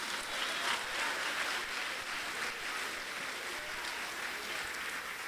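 Church congregation applauding during a service, a dense, steady wash of clapping at moderate volume throughout, with no voices standing out.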